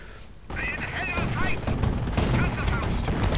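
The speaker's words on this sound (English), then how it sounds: "nice hit by the mortar" Mortar and gunfire crack and boom in a real-time strategy battle, with dense repeated bursts and explosions layered over a busy, loud mix as a commentator talks throughout.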